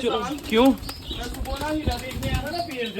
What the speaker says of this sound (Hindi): बड़ा प्यारा कबूतर आया